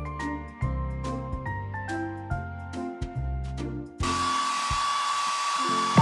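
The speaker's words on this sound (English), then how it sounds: "Tap the hair dryer to blow dry the pup's hair." A cartoon hair dryer in a PAW Patrol game for drying a pup's fur switches on after a run of bright musical notes, then blows with a steady, buzzing whir that continues to the end.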